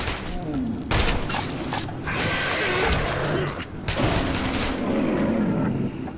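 Gunfire rattles continuously in a tunnel fight against mutants in the video game Metro 2033 Redux, dense bursts of shots and booms layered with game noise and mechanical clatter.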